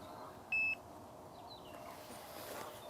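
Single short electronic beep from a carp fishing bite alarm, clear against a quiet outdoor background with faint distant noise.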